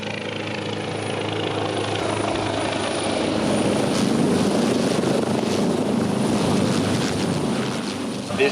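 A rescue helicopter hovers at a beach for an airlift, its rotor giving a loud, continuous thudding roar with a broad engine whine that holds nearby throughout.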